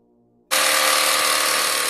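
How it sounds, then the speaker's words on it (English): An electric chainsaw starts abruptly after a brief hum and then runs at a steady, loud, high-pitched whine. "It's an electric chainsaw."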